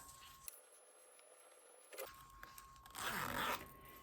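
A zipper on sewn fabric is drawn closed during a sewing project, giving a few quiet scratchy rasps that build to a louder, brief zipping burst near the end, heard alone and close.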